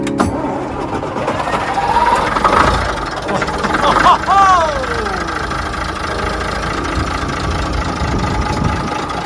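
Old bus engine turning over and catching into a rough, low idle that runs steadily alongside intermittent high squeaks and hisses, heard close with a voice speaking over part of it.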